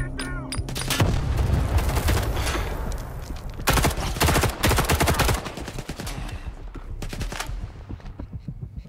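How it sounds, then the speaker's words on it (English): Grenade blast and rapid gunfire in the shooter Stalker 2, a dense run of loud bursts and booms spread across the clip, with a heavy explosion near the start and more volleys midway, trailing into quieter shots. "Fuck him up with a grenade."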